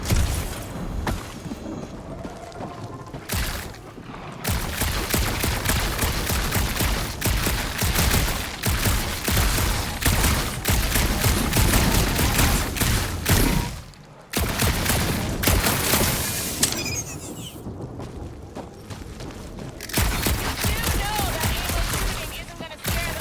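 Sustained gunfire in Marvel's Guardians of the Galaxy: rapid, dense blaster volleys fired in long bursts with brief pauses, loud and close, alongside occasional speech.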